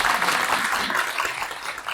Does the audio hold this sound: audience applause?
yes